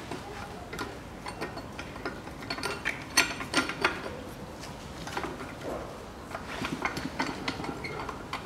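Bolts being tightened on the exhaust manifold of a 2010 Chery Amulet 1.5 A15 engine: quiet, steady ratchet ticking with a few sharper metallic clicks, close by and without talk.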